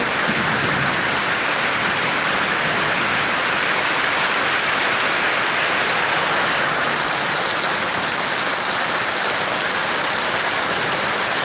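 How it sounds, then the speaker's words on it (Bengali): Heavy rain pours beside a mosque in Kashimpur, Gazipur, a loud, dense and unbroken hiss of falling water, near and steady throughout with no voices. "মসজিদের পাশে অনেক প্রচুর বৃষ্টি হচ্ছে"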